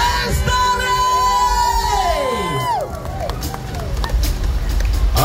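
A live concert crowd cheers for the band with loud whoops, shrill whistles and a steady roar of applause and shouting.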